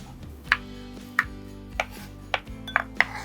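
A knife cutting pointed gourd peels on a board: six sharp, separate taps at a slow, slightly uneven pace, close and fairly quiet, alone without talk.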